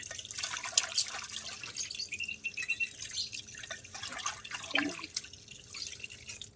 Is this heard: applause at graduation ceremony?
no